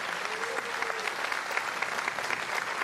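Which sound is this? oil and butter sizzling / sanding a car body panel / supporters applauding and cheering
supporters applauding and cheering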